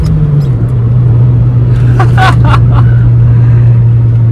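A Mazda 323 car engine hums steadily from inside the cabin while driving hard on winding roads, a loud constant drone with a slight pitch drop early and faint rattles.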